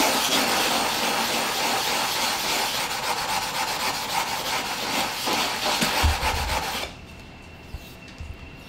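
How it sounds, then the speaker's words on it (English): A sharpening stone is rubbed flat on a sheet of glass with wet silicon carbide grinding grit, giving a steady gritty scrubbing rasp with quick back-and-forth strokes, close and fairly loud, that stops abruptly near the end, leaving near silence. "Silicon carbide, grinding grit, and a piece of glass and some water, and you get your stones real flat."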